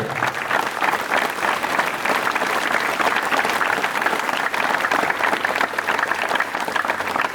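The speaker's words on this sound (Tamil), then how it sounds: "உங்களின் பலத்த கரகோஷத்தை கொடுக்க வேண்டும் என்று நான் அன்போடு கேட்டுக்கொள்கிறேன்" A school audience at a Republic Day celebration applauds its teachers: dense, steady clapping from a large crowd that holds at an even, loud level for the whole stretch, with no speech over it.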